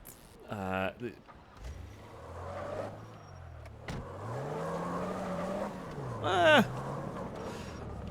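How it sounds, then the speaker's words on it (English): Zion car in GTA 5 accelerating and cornering, engine tone rising and falling through shifts with a brief tire squeal, a voice talking over it throughout. "what I'm going to do is I'm going to drive the Zion first before I decide if I'm going to use this as a getaway car"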